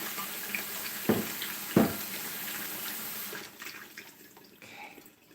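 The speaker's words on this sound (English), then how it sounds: "Now we're going to grab our buttered casserole and we're going to pour this in." Liquid mixture poured into a buttered 5-quart casserole dish in a home kitchen, a steady wet splashing stream with two brief louder glugs early on, then fading to a softer trickle.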